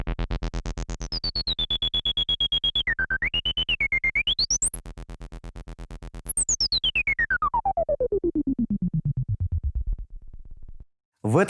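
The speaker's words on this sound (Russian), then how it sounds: "Вы слышите резонанс прям высоко-высоко." Behringer Odyssey analog synthesizer with the filter resonance turned up very high, a pulsing buzzy tone with a whistling resonant peak that wobbles high, climbs, then sweeps steadily down before the note stops.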